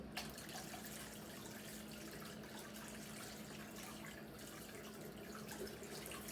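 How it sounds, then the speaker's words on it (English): A kitchen tap runs steadily for handwashing while baking sourdough cinnamon buns, a constant close water hiss with faint splashes, no talking. "gonna wash my hands."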